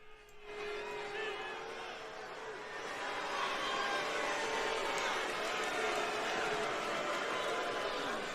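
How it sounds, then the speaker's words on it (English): A large arena crowd at WWE Raw in January 2020 boos Paul Heyman and Brock Lesnar, a steady wall of jeering that swells louder partway through and continues throughout, with a voice talking over it. "Yeah, they're booing you."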